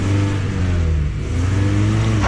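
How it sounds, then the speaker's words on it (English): An Audi revs hard on a mountain road, reversing and then accelerating. The engine holds a loud, steady, close drone with a slight dip in pitch midway before climbing again. "chuck it in reverse and just try and accelerate it a bit"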